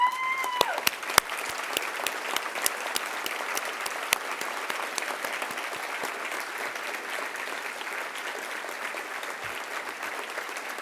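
Audience applause for committee staff at a luncheon event, a steady broad wash of many hands clapping for the full length, fairly even and moderately loud with no voices on top.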